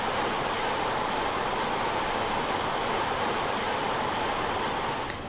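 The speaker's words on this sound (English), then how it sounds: "That's the sound of the ocean." A battery-operated baby travel noise soother plays its ocean setting: a steady, even wash of surf-like noise, close and continuous, fading slightly at the very end, with no voices.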